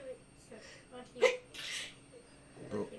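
A single sharp sneeze bursts out in a quiet room between soft breaths and small vocal sounds, faint overall.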